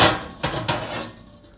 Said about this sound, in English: We'll get out our pan as well.